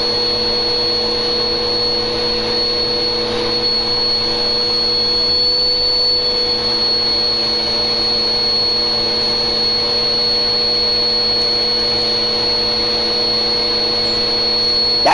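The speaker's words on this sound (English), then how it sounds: "You can't just vacuum that regularly." A vacuum cleaner runs in the GTA video game, a loud, steady motor whine with a high tonal hum that holds unchanged for about fifteen seconds, no speech over it.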